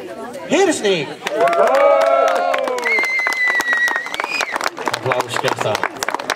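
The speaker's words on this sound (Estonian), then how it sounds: "Aplaus kesta." Crowd applause at an autocross prize ceremony, a steady wash of clapping mixed with chatter and cheering, with a loud announcer's voice and some musical tones running over it throughout.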